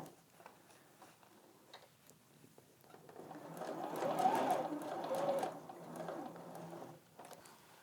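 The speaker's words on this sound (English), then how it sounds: "Nothing's shifting, nothing's moving as you stitch over those fabrics." A sewing machine stitches over quilt fabric seams, its fast mechanical whirring steady and close, swelling louder through the middle stretch before easing back, with no talking.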